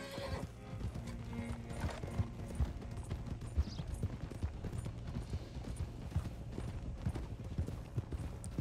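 Horse hooves clip-clop at a steady trotting rhythm in Red Dead Redemption 2, close and continuous under game ambience, with a brief whinny near the start.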